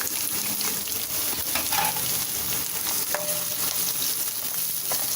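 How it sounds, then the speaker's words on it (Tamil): Carrots and beans stir-frying in a pan over high flame, a steady crackling sizzle punctuated by spatula scrapes and knocks against the pan, close and without talk. "இதெல்லாம் ஹை ஃப்ளேம்லேயே வச்சு வதக்குங்க"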